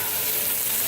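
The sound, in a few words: onions sizzling in a hot pan with fond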